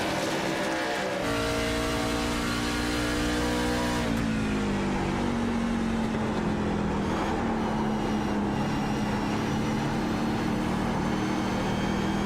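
A race car engine roars steadily, its pitch dropping as the driver eases off the throttle, then holding a lower, uneven drone.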